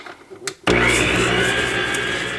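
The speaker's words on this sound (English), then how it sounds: "So I'm going to put down my mixer and get that mixing till it starts to cream" An electric hand mixer starts up after a few light knocks, then whirs steadily and loudly, creaming butter, sugar and almond extract in a bowl.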